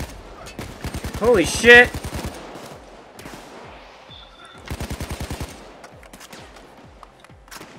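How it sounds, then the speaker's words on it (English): Bursts of rapid enemy gunfire in the Payday 2 heist game, two loud volleys of repeated shots with scattered single shots between, near and harsh, with a startled exclamation over the first burst. "there's someone behind us shooting us"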